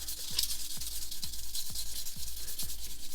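A raised seam on a plastic part of a Tamiya Honda NSR500 model kit is sanded by hand with fine grit paper, giving close, even rasping strokes in a steady back-and-forth rhythm.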